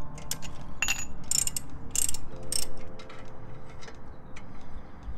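A ratchet wrench loosens an 18 mm brake caliper bolt on a BMW E90 during front wheel bearing work, giving bursts of close, crisp clicking over a steady low background hum.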